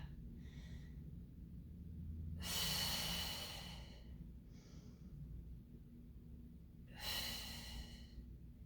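Breathy exhales during pilates push-ups on a mat: two strong, airy breaths a few seconds apart, with faint shorter breaths between them, close and quiet over a low background hum.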